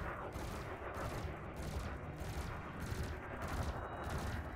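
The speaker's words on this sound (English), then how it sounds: "use the burst laser to start taking it out" Burst laser firing in Elite Dangerous, a steady run of rapid repeated pulses in evenly spaced groups over a constant low rumble, fairly faint and continuous.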